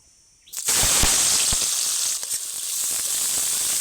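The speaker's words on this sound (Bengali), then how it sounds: "আমি এখানে কিছুটা পেঁয়াজ দেবো এখন তেলের মধ্যে" Onions drop into hot oil and start a loud, steady sizzle that keeps crackling close by without a break.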